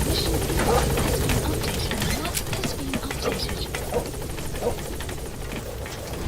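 A video game helicopter lifts off, its engine and rotor hum steady and fairly loud, with rhythmic chopping pulses and in-game noises mixed over it.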